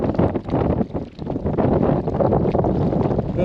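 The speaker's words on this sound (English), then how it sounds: "A little bit windy." Steady wind at a Colorado alpine lake buffets the microphone as a continuous low rumbling roar with gusty swells, close and fairly loud, and no voices.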